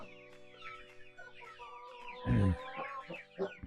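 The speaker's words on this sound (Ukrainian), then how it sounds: "Наші гусята підростають. Їм вже десь тижнів три точно." Three-week-old Kholmogory goslings peep and chirp in a farmyard, a busy run of high calls close by, with one louder, harsher honk-like burst in the middle and no talk.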